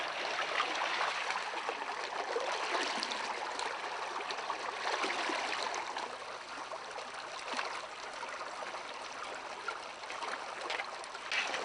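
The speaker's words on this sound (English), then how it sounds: "we'll just pan it out and see if we can get any colors out of her" Cold stream water rushes and trickles steadily around a gold pan as gravel is washed out in a creek, a continuous close wash of moving water with no speech.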